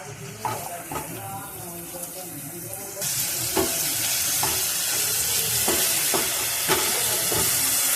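Tomato with salt frying in a pan, quiet stirring and scraping at first, then a sudden loud sizzle that holds steady under continued spatula strokes, with no speech.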